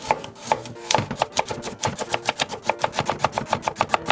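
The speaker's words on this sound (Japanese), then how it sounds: "斜めに包丁を入れて5ミリ厚さ程度大きめに輪切りします" Steady knife strokes slicing burdock root into thick diagonal rounds on a wooden cutting board, about five strokes per second, close and crisp, with no talking.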